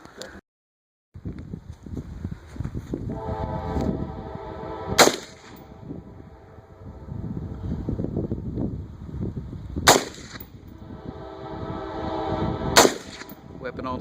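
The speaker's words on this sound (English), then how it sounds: "this is the result of Austin there shooting the Bushmaster" A Bushmaster C15 AR-15 rifle fires three sharp, loud shots spaced several seconds apart, near and prominent over a steady outdoor background rumble.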